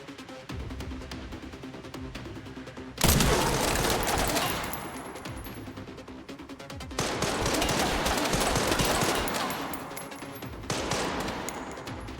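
Sustained gunfire from Resident Evil Requiem erupts in long, dense volleys of loud, rapid shots, broken by short lulls before the shooting resumes even heavier.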